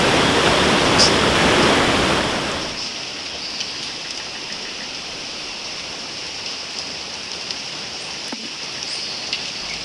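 Flowing water gives off a loud, broad rushing roar that eases after a few seconds into a steady, softer hiss with occasional faint splashes.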